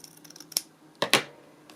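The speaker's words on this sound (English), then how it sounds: "So I'm going to cut a piece of the gold." Scissors snip a piece of gold paper, with a few light crisp cuts, then two sharper close snips in quick succession, fairly quiet.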